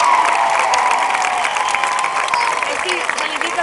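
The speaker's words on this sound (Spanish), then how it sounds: "¡Fuerte ese aplauso!" A concert audience at a Bustamante show in Gijón gives loud, sustained applause and cheering, a dense continuous roar of clapping from a large crowd that fills the whole stretch.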